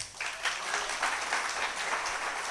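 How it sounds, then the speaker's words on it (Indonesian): Church congregation at an evangelistic sermon clapping together, a dense sustained patter of many hands heard from across the room, fairly soft and continuous throughout. "Tepuk tangan untuk Tuhan kita."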